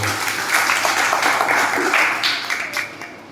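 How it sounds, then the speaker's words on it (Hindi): Audience applause at a religious quiz gathering, a loud burst of many hands clapping that runs for a few seconds before tapering off, with some voices faintly mixed in. "जोरदार ताली बजाओ।"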